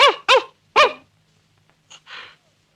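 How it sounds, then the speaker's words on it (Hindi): A dog barks three times in quick succession, loud and close, followed by a couple of softer, shorter yelps after a brief pause. "अंदर से कुत्ता भौंक रहा था।"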